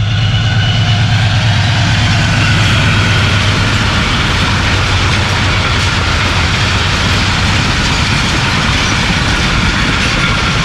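Shah Hussain Express, led by locomotive AG 36025 and bound from Lahore to Karachi, rushes past at Jhimpir at about 105, a loud, steady roar with a deep low rumble and continuous wheel clatter throughout.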